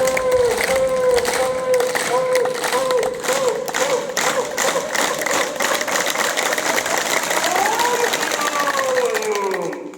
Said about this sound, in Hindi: ओम के नाम पे ताली वादन प्रक्रिया।